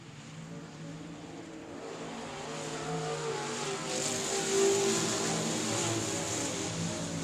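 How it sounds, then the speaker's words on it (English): Race cars at South Texas Speedway roar around the oval after a green-flag restart, engines swelling and building toward a louder pass before easing slightly, heard from a distance with no talk. "We're going to go green flag racing, this time off of turn number 4."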